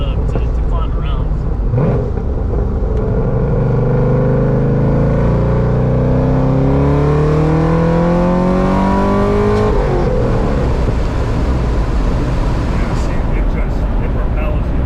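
A 2013 Chevrolet Corvette 1LT engine revs up loudly from inside the car, pitch climbing steadily through the gears before dropping off, with people talking over the drone.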